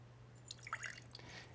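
Sherry vinegar dribbles into a jar in a faint, brief pour of a few soft drips over a low steady hum, with no talk.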